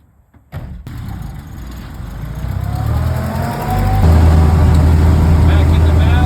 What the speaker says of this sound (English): So I'm gonna drive up out of here, get back on the paved road,